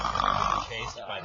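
Snoring in a comedic segment about a snore stopper: a rough, rumbling nasal snore lasting about a second, loud and close, with a voice over it.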